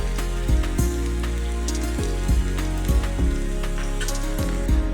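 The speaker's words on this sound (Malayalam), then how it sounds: "ഇനി ഇതിലേക്ക് ഇഞ്ചി ഇട്ട് കൊടുത്ത് അത് നന്നായിട്ടൊന്ന് വറുത്തെടുക്കണം." Ginger frying in oil in a pan gives a crackling, rain-like sizzle with sharp pops recurring every half second or so, over a low steady hum.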